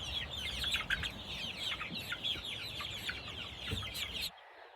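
Healthy nine-week-old chickens on a homestead farm cluck and chirp in a dense, steady chorus, close by and moderately loud, before the sound cuts off abruptly.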